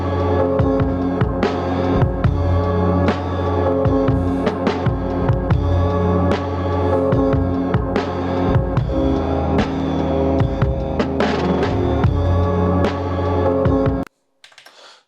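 A 70s soul vinyl sample played back at half speed on an MPC One Plus, heard as a thick, slowed, low-pitched music loop that runs loud and continuous, then cuts off abruptly near the end.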